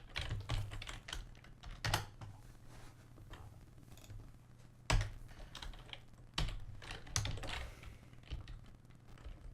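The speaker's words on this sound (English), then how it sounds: "You can just start typing and figure it out" Computer keyboard typing, close and fairly quiet, in irregular bursts of key clicks with a few sharper, louder strokes, heard alone with no speech.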